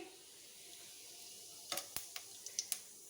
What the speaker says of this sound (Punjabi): ਹੁਣ ਅਸੀਂ ਅੱਧਾ ਛੋਟਾ ਚਮਚ ਜੀਰਾ ਪਾ ਲਾਂਗੇ